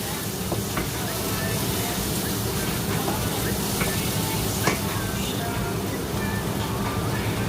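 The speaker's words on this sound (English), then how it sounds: "So I'm gonna saute the onion and garlic for about 2 minutes." Onion and garlic sautéing in a frying pan for chicken and prawn pasta, a steady broadband sizzle with occasional stirring clicks and scrapes, close and continuous throughout.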